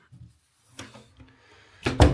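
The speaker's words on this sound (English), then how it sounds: "If I close the door" A wooden door in a DIY cottage closes, with soft handling noises and then a close, fairly loud bump and rattle near the end.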